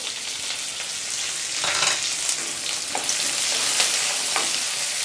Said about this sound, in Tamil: ஒரு 2 நிமிஷம் நல்லா வறுபடட்டும்